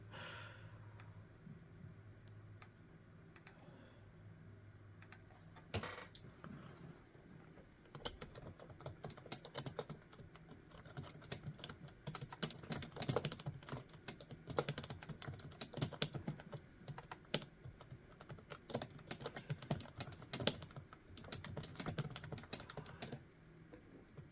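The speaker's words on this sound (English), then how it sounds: "let's open up Word from Windows 95 and type us a document" Typing on the keyboard of a Compaq LTE 5100 laptop running Word under Windows 95, a steady run of close, quiet key clicks lasting throughout, with no talking.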